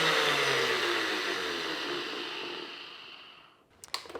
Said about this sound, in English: we are gonna blend this until smooth